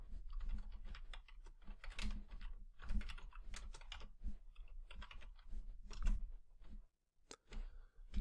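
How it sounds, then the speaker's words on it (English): A computer keyboard clicks with quick, uneven keystrokes as a command is typed, close and fairly quiet, with short pauses between bursts and no talk. "let's go ahead and type show system info."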